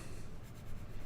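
Pencil graphite being erased on drawing paper during a misty tree landscape drawing, a soft, continuous rubbing scrape lasting about a second, close and fairly quiet with no talk.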